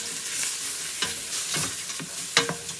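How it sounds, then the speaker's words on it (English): Minced garlic sizzles in a frying pan with onions, a soft continuous hiss with a few scraping stirs of a utensil, close and moderately loud, no voices. "Now I'm going to add in a tablespoon of minced garlic."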